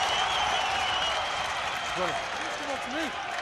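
A rugby stadium crowd at a Leinster versus Bulls URC semi-final applauds in a broad, continuous wash of clapping and cheering, with a voice briefly calling out over it.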